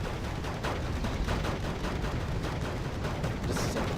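Artillery bombing runs on a town in the Wargame Red Dragon video game, a dense, continuous barrage of overlapping booms and rumbling gunfire, steady and loud throughout.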